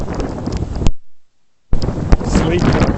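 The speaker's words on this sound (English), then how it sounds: "Wind gust." Strong wind gusts buffet the microphone during a New York sleet storm, with loud roaring bursts broken by a brief silent gap, a person speaking over them.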